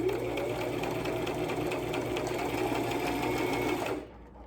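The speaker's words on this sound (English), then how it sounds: "So I'm gonna start top stitching" A sewing machine runs steadily, top stitching a fabric lanyard in one continuous close, loud whirring run that stops abruptly near the end.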